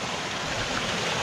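A fast, swollen stream running wild near a bothy in the Northumberland and Scottish Borders hills makes a steady, loud broadband rush of churning water, continuous and close, with no voices.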